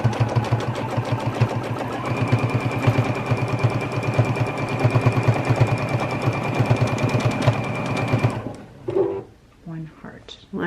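A JUKI sewing machine runs continuously at speed while free motion quilting a heart into fabric, its rapid needle rhythm loud and close, then stopping abruptly near the end as a voice talks over it.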